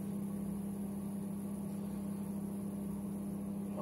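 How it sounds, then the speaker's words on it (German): A microwave oven runs with a steady, even mid-low hum and no other sounds, heard throughout at a constant level in a home kitchen. "Ja, weil Mikrowelle, das macht ja von außen nach innen warm"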